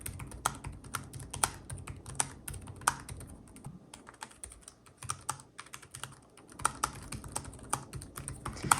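Rapid, steady typing on the keyboard of a 2022 AMD ASUS Zephyrus G14 laptop, a dense run of light, crisp key clicks close by, quiet, with no talking.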